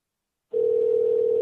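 Steady telephone dial tone switching on abruptly after a short silence while a call is being reconnected, one continuous clean hum held to the end, alone with no voices.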